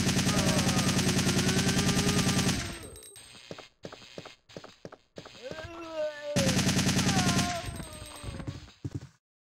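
Sustained bursts of assault rifle fire from Resident Evil 3: Nemesis, loud and rapid, with a pause of scattered single shots and game sounds before a second long burst.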